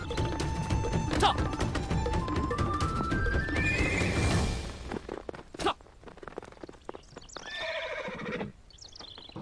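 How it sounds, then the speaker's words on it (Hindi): Two riders race their horses, with loud rising and falling neighs over rapid clattering hoofbeats, then sharp knocks and further whinnies fading toward the end. "हमारे हीरो हीरोइन घोड़े पर सवार हैं, जो आपस में रेस करके एंजॉय कर रहे होते हैं"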